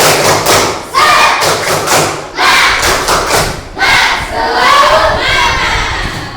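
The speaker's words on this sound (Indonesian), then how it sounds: "Tepuk semangat." A school class performs a rhythmic spirit clap, sharp unison claps and thumps in patterned bursts, loud and close, with children's voices shouting along between the beats.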